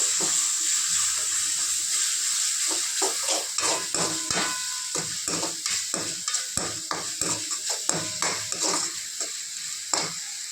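Potatoes fry with ginger paste in a pan, a steady bright sizzle with a repeated scrape and clink of a spoon stirring through it, close and continuous.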